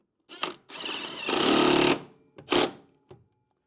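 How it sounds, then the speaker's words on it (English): Air impact wrench driving a rear suspension bolt home on a 2003-2008 Honda Pilot during a shock, spring and end link replacement, loud close bursts: a short rattle, a longer sustained hammering run, then two quick follow-up hits. "Thread that through and hit it with the impact"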